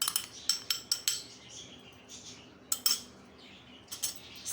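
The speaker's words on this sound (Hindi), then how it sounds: "सबसे पहले हम इसमें ये अंडे शामिल करेंगे, इनको हम फेंट लेते हैं थोड़ा सा।" Eggs are beaten in a bowl for paratha dough with a utensil, producing a series of sharp, close clinks and taps in irregular bursts, with quieter gaps between them.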